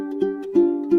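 A ukulele close up, plucked notes on the 3rd string, three clear attacks about a third of a second apart, each ringing briefly in a bright, steady tone with no speech.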